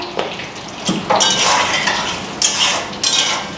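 A spoon scrapes and clinks against a cooking pan as potatoes are stirred together with spices, with faint sizzling from frying underneath and several sharp metallic scrapes in close succession.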